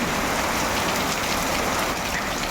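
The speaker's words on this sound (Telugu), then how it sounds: "వర్షం అనుకోకుండా సడన్గా పడ్డది" A sudden heavy downpour in Manuguru gives a loud, even roar of rain on surfaces, continuous and close, with no voices over it.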